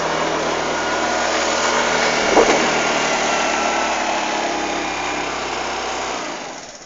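A Benelli Adiva convertible-roof scooter idles close by, its small engine giving a steady, even hum with a brief bump midway before the sound fades out at the end.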